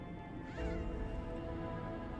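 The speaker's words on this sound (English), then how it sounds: "Beautiful cat." A cat in the video game Lies of P gives a single soft, rising meow, faint beneath a steady low background hum.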